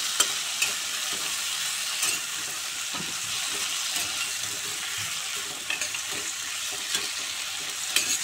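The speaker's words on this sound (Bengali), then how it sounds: "আলুটা বেশ ভাজা ভাজা হয়ে গেছে।" Potatoes fry and sizzle in a pan with a constant hiss, broken by soft scraping clicks as they are stirred at irregular intervals.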